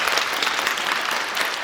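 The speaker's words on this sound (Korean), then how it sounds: "아주 큰 도전을 무사하고 아름답게 마치신 감독님께 박수 한번 부탁드리겠습니다." A theater audience at a film screening with the director present claps steadily, a dense, even burst of applause from a crowd.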